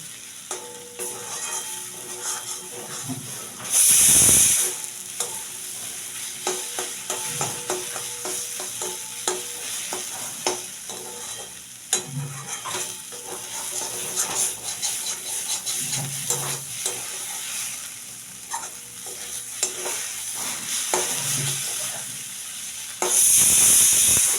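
Radish frying in a pan on a gas stove, a continuous sizzle with frequent spatula scrapes and taps over a long stretch, punctuated by two brief bursts of louder hissing.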